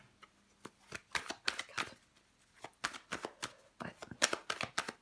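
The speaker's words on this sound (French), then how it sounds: "Je vais recouvrir des cartes." Tarot cards being shuffled and laid out on a table, a quiet, close run of quick riffling flutters and soft snaps in bursts with brief pauses, no talk.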